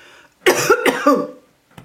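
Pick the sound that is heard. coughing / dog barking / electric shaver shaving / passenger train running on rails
coughing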